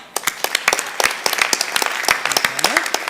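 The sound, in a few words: audience applause at a conference presentation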